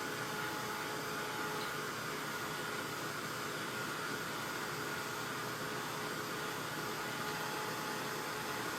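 A heat tool blows steadily to dry ink on a sketchbook cover, giving a constant, even whooshing hiss with no pauses and no talking.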